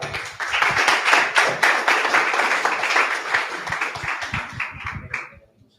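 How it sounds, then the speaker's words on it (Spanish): Applause from an audience at a university event welcoming a doctor of criminal justice, a dense burst of clapping that swells quickly, holds steady for several seconds and then thins out and stops. "Lo recibimos con un fuerte aplauso"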